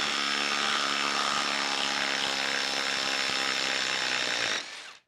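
A Ryobi PBLID02 cordless impact driver runs hard in a timed speed test against a Makita, a continuous buzzing, hammering drone that holds steady for about four and a half seconds before winding down.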